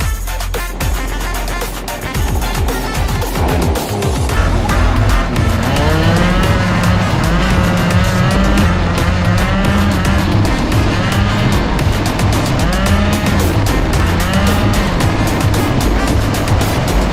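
Go-karts drive through the streets of Shibuya Crossing in Tokyo, their small engines buzzing and revving loudly and close, with rising and falling whines and passing traffic throughout.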